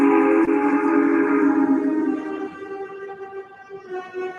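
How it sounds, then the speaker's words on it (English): A steam train engine whistle sounds loud and close, a sustained harmonic tone that breaks off and then continues more faintly and wavering, echoing as if from the darkness ahead. "he and Percy heard a whistle from another engine, which was coming from the darkness ahead of them"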